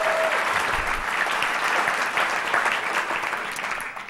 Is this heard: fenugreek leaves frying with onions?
no